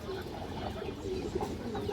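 High-quality large-headed male pigeons cooing softly in a loft, a few low, rounded coos repeating over a muffled background, close by but fairly quiet.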